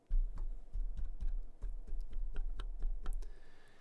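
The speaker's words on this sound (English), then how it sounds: "I'm going to tap on the boom arm again" Repeated taps on a boom arm holding an AKG C214 condenser microphone with its high-pass filter engaged: a steady series of about a dozen soft, muted knocks, close and dry, with low thumps trimmed away.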